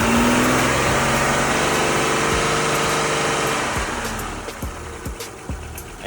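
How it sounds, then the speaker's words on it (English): A 2005 Suzuki Verona engine running steadily, then easing off toward idle with a few soft clicks and thumps near the end, no voices. "Now David is going to rev the engine"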